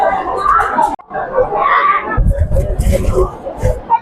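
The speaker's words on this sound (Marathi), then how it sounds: "आपण बघू शकता खूप मोठी रांग आहे याची आणि खूप गर्दी आहे" A large crowd queuing for darshan inside Trimbakeshwar temple in Nashik, with loud, dense hubbub, overlapping voices and occasional shouts close by.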